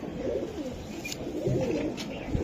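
Giribaz pigeon cooing in soft, repeated low rolling phrases, close by and steady over a constant background hum, with no talking.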